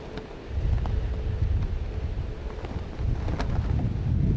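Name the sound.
strong wind blowing outdoors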